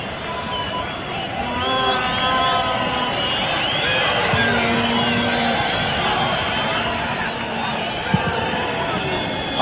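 A football stadium crowd at a 1986 World Cup round-of-16 match between Morocco and West Germany roars in a steady, dense wash of noise, with a commentator talking over it throughout.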